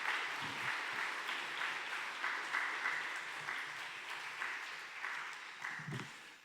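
Church congregation at a Korean Sunday afternoon service claps to welcome a guest pastor, continuous moderate applause from a crowd, fairly even throughout with a slight fade near the end.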